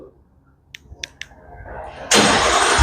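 A few clicks, then a 2024 Ford F-150 Tremor pickup with stock exhaust cranks and roars to life loudly, settling into a deep, throaty idle.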